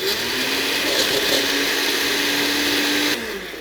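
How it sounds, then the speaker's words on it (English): A kitchen blender whirs steadily while blending frozen bananas, a loud continuous motor roar with a grinding texture that holds for about three seconds before cutting down. "I'm going to take my frozen bananas and I'm going to put them in my blender, put the lid on"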